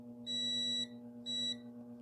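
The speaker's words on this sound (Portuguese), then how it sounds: "Você toca nele, ó, ele dá um bip rápido e para" Two short steady electronic beeps from a multimeter as its probes touch a capacitor on a Samsung UN40F6400AG TV board, each lasting about half a second over a constant low hum.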